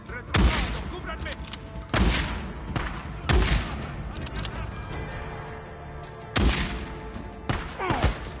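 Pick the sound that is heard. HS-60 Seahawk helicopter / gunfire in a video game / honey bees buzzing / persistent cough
gunfire in a video game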